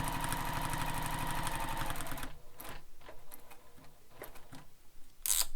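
A sewing machine stitches rapidly and evenly for about two seconds, then stops, followed by quieter handling clicks and fabric rustling as the corner is pivoted.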